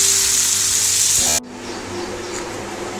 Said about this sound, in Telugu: మనం దీన్ని ఫ్రై చేద్దాము